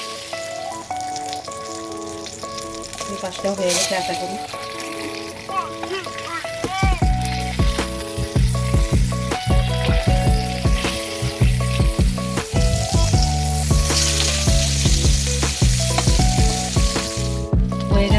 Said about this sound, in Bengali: এখন ওই দিকটা ভালো করে ভাজা হবে